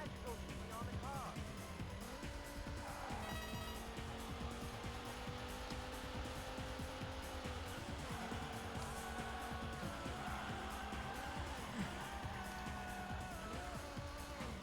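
A racing car slides sideways in a Sega Saturn racing game, its engine droning with rising and falling whine alongside tire skid noise, under a steady game soundtrack and talk throughout.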